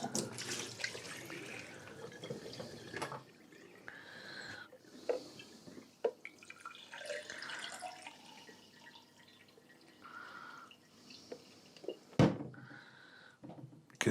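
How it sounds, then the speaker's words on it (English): Dirty water from a Vax W86 DPB carpet cleaner shampooer pours into a clean glass in a quiet indoor room, with soft trickling and dripping, scattered light clinks and a sharp knock near the end. "I'll just pour it into this clean glass."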